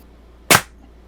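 A Daisy 853 air rifle fires a pellet at a root beer can: one sharp, loud crack that decays quickly, with quiet surroundings before and after.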